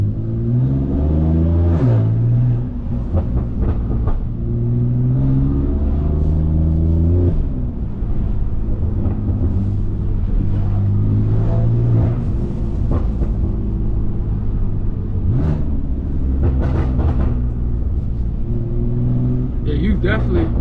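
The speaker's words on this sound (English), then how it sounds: "Definitely turning heads with this exhaust, I'm telling you." A 650 hp BMW F80 M3 with straight-piped exhaust revs repeatedly on the move, loud engine sweeps climbing and dropping over constant rumble, with voices talking at times over the drone.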